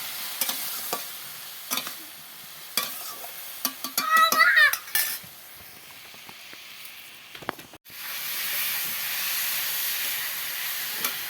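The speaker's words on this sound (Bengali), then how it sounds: "এই যে কুমড়োগুলো নুন চিনি হলুদ দিয়ে নাড়াচাড়া করে নিচ্ছি।" A spoon stirs pumpkin pieces with salt, sugar and turmeric in a cooking pan: scattered metallic scrapes and clinks come first, then a sudden, steady hiss of frying takes over.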